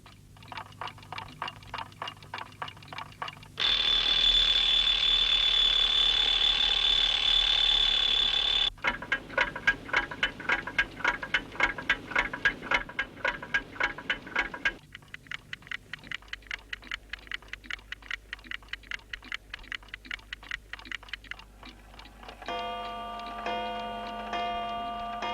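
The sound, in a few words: clocks ticking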